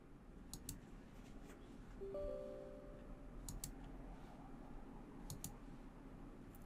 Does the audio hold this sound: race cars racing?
no